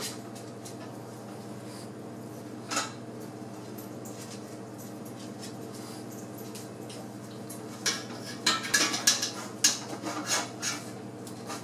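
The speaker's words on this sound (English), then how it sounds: "I just have a metal spatula that I'm just going to run through here" A metal spatula scrapes and rubs against the side of a pot as it runs through soft goat cheese curds, quiet at first and then a burst of louder clinks and scrapes toward the end.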